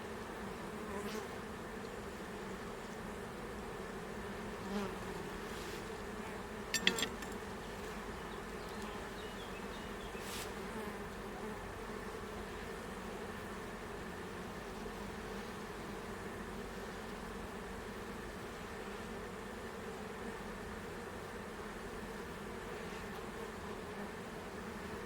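Honeybee colony inside a hive, a dense steady buzzing hum that holds for the whole stretch, close and even, with a few faint knocks and no voices.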